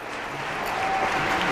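An audience of about a thousand to fifteen hundred people applauds the kids at a show. The dense clapping swells slightly over a brief stretch and is heard up close without speech.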